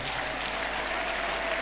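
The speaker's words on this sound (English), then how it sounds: "Give them a round of applause one more time," Sustained crowd applause at an outdoor cultural ceremony, a dense, even wash of clapping that stays at a constant level from start to finish with no talk on top.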